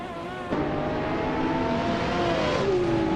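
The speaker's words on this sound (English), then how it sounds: "Bot Brandabuster is piloting a 2018 Lamborghini Aventador S VJ." A 2018 Lamborghini Aventador S VJ in a racing video game, its engine kicking in abruptly and holding a steady high-revving whine that rises then drops near the end, loud and close.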